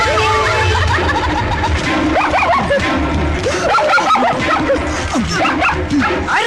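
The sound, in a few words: dog barking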